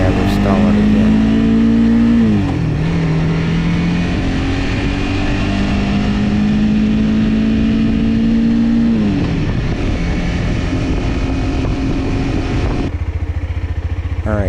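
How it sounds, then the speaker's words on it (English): A motorcycle engine revs up close and loud as the throttle is opened and the clutch is let out during beginner clutch practice, its pitch climbing and dropping in repeated surges before settling to a lower idle. "you heard I applied gas and then let out of the clutch"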